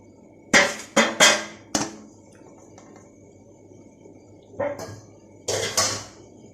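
Green gram powder, milk powder and sugar being stirred in a pan for halwa, with a cluster of four sharp metallic clatters of spoon against pan, a quiet pause, then two more knocks.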